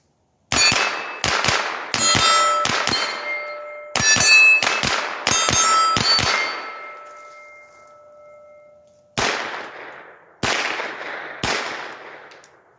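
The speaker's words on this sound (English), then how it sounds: "I'm going to transition and shoot down there off to the right at that, and you should hear the clang when I hit it." Rapid bursts of sharp metallic clangs from bullet strikes on a steel target at 90 yards, each ringing out briefly, in quick clusters followed by a few spaced single hits.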